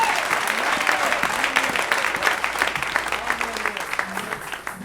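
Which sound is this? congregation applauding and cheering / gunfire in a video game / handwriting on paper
congregation applauding and cheering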